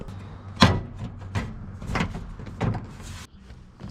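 A car door panel with liner fitted back onto the door of a Mazda RX7, giving a series of sharp plastic clicks and knocks, loudest near the start, spaced irregularly through the clip.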